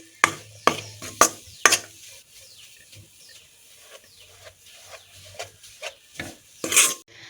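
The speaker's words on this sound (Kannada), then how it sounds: "ಎಣ್ಣೆ ಬಿಡೋ ತನಕ ಚೆನ್ನಾಗಿ ಫ್ರೈ ಮಾಡೋಣ." Halkova mixture stirred and fried in oil, with scattered scraping strokes of a spoon against the pan over a faint quiet sizzle, louder scrapes at the start and near the end.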